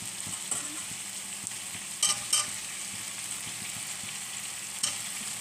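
Small new potatoes being added to a pan and stir-fried, a steady close sizzle with a few sharp scraping knocks and clatters as they are tossed, no talk.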